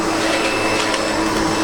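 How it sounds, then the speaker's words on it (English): A SEBO Automatic X7 Boost ePower upright vacuum cleaner runs with its brush on the floor, giving a loud, steady whirring drone with no voices. "that means you've actually got to keep the vacuum moving"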